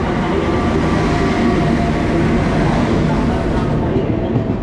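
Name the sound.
SMVT Bengaluru weekly special train arriving at station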